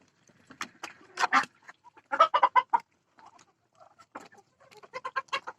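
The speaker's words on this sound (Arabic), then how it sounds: "الطيور الكبيره بتاعتي بط وفراخ كله على بعضه هنا" Chickens and ducks on a rooftop cluck in several short bursts with pauses between, fairly close, with no one talking.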